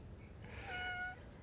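A house cat gives a faint meow indoors, a single soft drawn-out call against a quiet low background hum.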